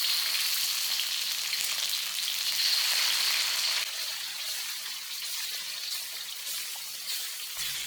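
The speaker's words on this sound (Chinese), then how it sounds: "接着鸡肉就下锅煎" Chicken pieces fry in a little oil in an iron wok with a steady, crackling sizzle that eases slightly after a few seconds and carries on alone.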